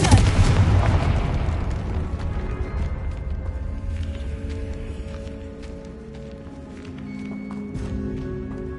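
A deep, loud blast from the Confringo fire spell in Hogwarts Legacy, booming up front and then rumbling into a long decaying roar, with game music tones and footsteps surfacing as it fades.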